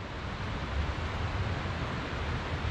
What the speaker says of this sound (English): but you can hear that water roaring.